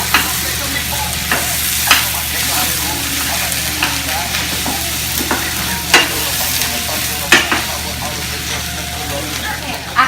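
A spoon stirs three cups of rice frying in a pan, giving a continuous loud sizzle punctuated by regular scraping strokes and clacks every couple of seconds.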